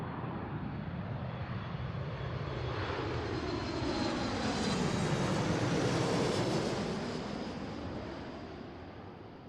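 Jet airliner arriving at Seattle airport during an evening of heavy arrivals, a loud continuous engine roar that swells to a peak around the middle and then slowly fades as it passes.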